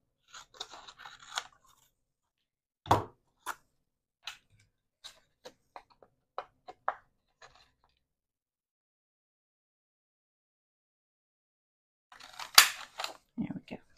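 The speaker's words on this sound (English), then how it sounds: "grab my bigger scissors" Large scissors cut through a paper file-folder craft panel in scattered crisp snips and crunches, close and quiet, with long silent gaps between a few clustered cuts.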